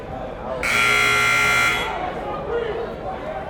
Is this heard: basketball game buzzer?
yes